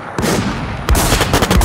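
Loud close gunfire from the online survival shooter Infestation: Survivor Stories, two sharp bursts of rapid shots with a short gap between them, no voices.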